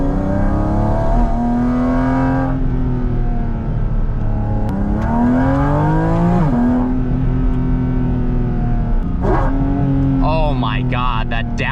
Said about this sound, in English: that downshift is just absolutely ridiculous